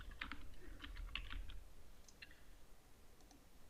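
Typing on a computer keyboard, soft quick keystrokes in short clusters followed by a few sparser taps, quiet and close, with no speech.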